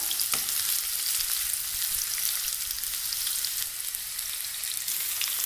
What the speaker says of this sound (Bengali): এখন আমি পেঁয়াজগুলোকে ভেজে নেব